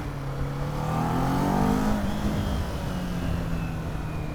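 A 2023 Kawasaki Z400 motorcycle engine drones while riding on a road, its pitch climbing and sliding under strong wind rush, loud and continuous with no talk.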